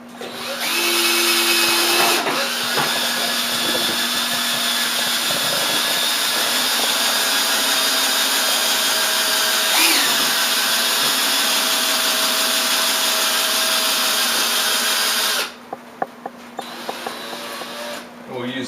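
Power stirrer driven by a drill whirs steadily while mixing mead in a 5-gallon bucket, a loud continuous high-pitched motor whine with liquid churning that runs for about fifteen seconds before cutting off, leaving light clatter and handling noise.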